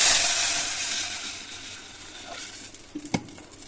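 Oil sizzles loudly as cumin seeds are dropped in, the hiss fading over a few seconds, followed by a couple of soft clinks of a utensil against the pan.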